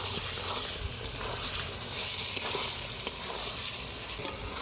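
Potatoes frying and being stirred in a pot for mutton curry over a wood-fired stove, a steady close sizzle and hiss broken by a few sharp scrapes of the spoon.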